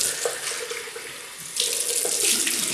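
A water tap runs into a sink to rinse off after shaving, a close steady hiss and splash with changes in the flow as hands move under it.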